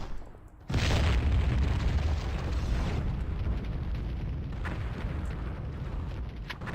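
A grenade explosion in the Warhammer 40,000 shooter FireWarrior bursts in with a sudden loud boom, then a long rumbling roar decays slowly over several seconds, with a second, smaller pop partway through.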